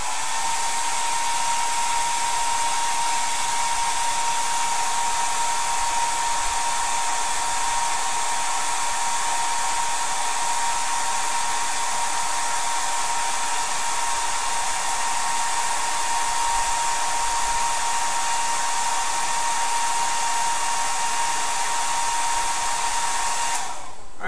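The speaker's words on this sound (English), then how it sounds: "you're gonna have to keep it in the house and try blow drying." A hair dryer blows steadily on a model's salt-chipping layer, a constant close whooshing hum with a faint whine running unbroken for the whole stretch before cutting off at the very end.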